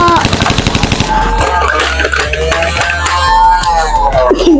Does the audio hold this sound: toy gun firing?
yes